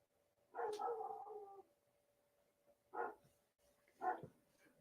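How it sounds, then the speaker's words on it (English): A dog barks angrily outdoors: one long, harsh, drawn-out bark followed by two shorter gruff barks, moderately near, with no talk. "That is an angry bark."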